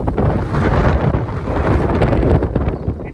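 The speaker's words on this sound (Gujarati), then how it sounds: "પવન બહુ છે" Strong wind roars and buffets the microphone continuously, loud and gusty throughout with no voices, during an unseasonal storm.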